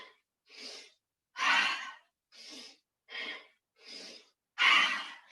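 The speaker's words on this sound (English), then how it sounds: "inhale, exhale, inhale, exhale" Slow, audible inhales and exhales during a guided breathing exercise, seven breaths separated by short silences, some deeper and louder than others, close and clear with no talking over them.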